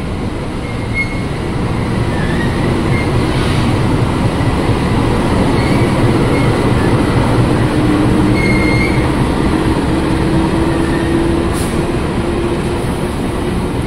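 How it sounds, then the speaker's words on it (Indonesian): A diesel locomotive at Jatinegara station rumbles steadily and loudly throughout, with rail noise and faint wheel squeals over a heavy low drone, no voices. "Ini lokomotif dinas ya, lokomotif dinas yang bersiap buat ke Pasar Senen"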